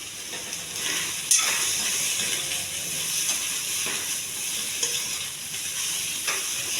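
Okra (bendakaya) fries with turmeric in a little oil, making a steady close sizzle and hiss with faint stirring scrapes and a couple of sharp clinks.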